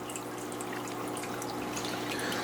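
An aquarium waterfall runs into a 125 fish tank, giving a steady, continuous trickle of falling water under a low background hum, with no voices.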